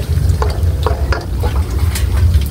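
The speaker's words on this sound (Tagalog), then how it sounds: "Haluin na po natin" Banana heart with tomato sautés in a pan, a loud steady sizzle under repeated scraping strokes of a spoon stirring the mixture, close up and without talking.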